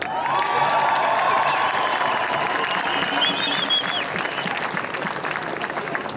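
A large crowd applauding at a rally against the Washington Redskins name, steady loud clapping with some cheers and whoops that gradually eases off toward the end.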